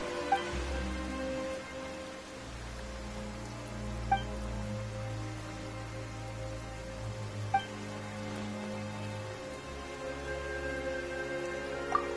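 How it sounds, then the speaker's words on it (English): Steady rain falls in the Genshin Impact game world, a continuous even hiss with a low rumble beneath and a few faint chime-like accents, no voices. "Why is it raining all of a sudden?"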